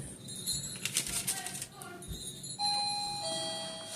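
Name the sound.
doorbell ringing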